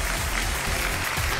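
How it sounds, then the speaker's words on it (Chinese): Studio audience applause on a television dating show as a young couple is welcomed onstage, a steady even wash of clapping throughout the short moment with no voices. "掌声有请这一对，有请。"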